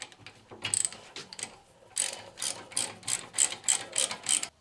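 A ratchet clicks in rapid bursts while tightening the rear brake bolts on a BMW 1 Series E87, the pawl ticking close and loud in a steady rhythm.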